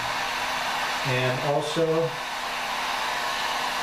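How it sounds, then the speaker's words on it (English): A heat gun blows hot air onto beeswax and pine tar as a steady close whoosh, while someone speaks briefly over it. "to speed things up, I use a heat gun, and that should help this pine tar to get out of here"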